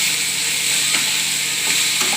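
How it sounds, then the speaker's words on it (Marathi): Sprouted matki usal is stirred in a kadhai while it sizzles in hot oil, giving a loud steady hiss with a few light scrapes of the spoon, close up and without speech. "तर ही आपली अशी मोड आलेली उसळ मी कढईमध्ये टाकत आहे."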